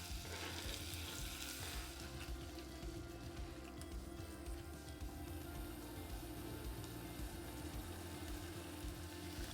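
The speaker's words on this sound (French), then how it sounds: "Dans une casserole, je fais fondre le beurre" Steady, dense sizzling and bubbling of orange cubes in melted butter in a saucepan, continuous and fairly soft throughout, with faint stirring scrapes and no speech.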